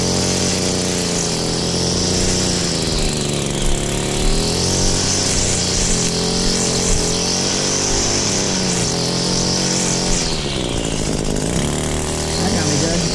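A lawn mower or string trimmer runs steadily throughout a June lawn cut, a loud, close, continuous engine drone with slight shifts in pitch as it works, while a voice talks over it.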